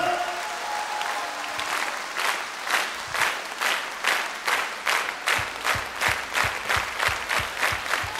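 A concert audience claps in a live hall, loud sustained applause that settles into steady rhythmic clapping in unison, with no talking over it.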